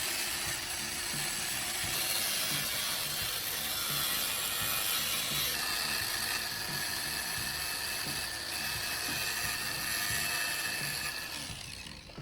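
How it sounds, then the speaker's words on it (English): Angle grinder cutting steadily along marked lines, a continuous loud, harsh high-pitched grinding whine that holds for about twelve seconds and tails off slightly at the end. "I use an angle grinder to carefully cut along them."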